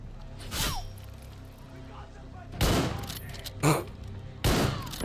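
Sniper rifle shots in Far Cry 6, four loud, isolated cracks spaced a second or more apart, each with a short rumbling tail over quiet game ambience.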